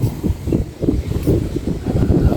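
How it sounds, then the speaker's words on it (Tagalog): Strong wind buffets the microphone in a steady, loud, low roar with gusty surges, and no one speaks. "Ang lakas ng hangin dito guys oh."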